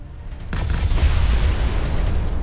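A frigate ship is destroyed in the Galaxy Reavers mobile space game, bursting into a loud, rumbling explosion that starts suddenly and holds as a heavy, roaring boom.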